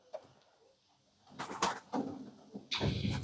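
Pigeons in a loft give a few soft coos and rustles, fairly close, with some handling or door-like knocks and movement noises among them.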